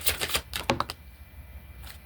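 Tarot cards pulled one after another from a pre-shuffled deck, giving several quick, close, papery snaps and flicks in the first second, followed by a quiet pause.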